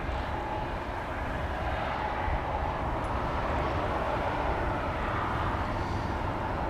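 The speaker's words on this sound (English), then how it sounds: "This is Finnair Flight 1302 going to bloody Helsinki, Finland. It's an A320" A 23-year-old Finnair Airbus A320 departing Amsterdam Schiphol for Helsinki, its engines a steady, broad, distant roar that holds evenly throughout with no voices.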